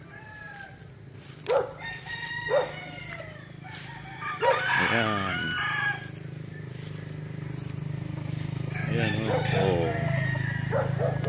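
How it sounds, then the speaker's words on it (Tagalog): Chickens and roosters on a farm beside a bypass road, with two drawn-out crows ringing out among scattered clucks while someone talks briefly nearby. "may mga manok din dito"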